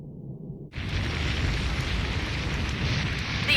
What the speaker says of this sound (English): An explosion. It looked like it was at the bottom of the crater.